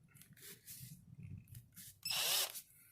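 A Philco Force PPF03M 12V cordless drill in hammer mode bores briefly, a loud whirring burst about half a second long between softer handling noises and low background sounds.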